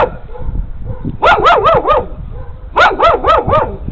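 A dog barks in two quick bursts of about four sharp, wavering barks each, loud and close, over a low rumbling background.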